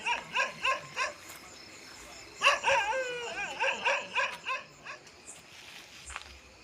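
A dog barks in a rapid series of sharp yelps, with a second burst of barking and whining midway, fairly close and clear against a quiet background, without any talk.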